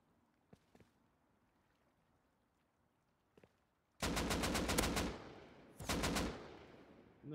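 Bursts of gunfire ring out in Rust near water, two long rapid automatic volleys after a quiet stretch with a few faint isolated shots, loud and sharp with no voices.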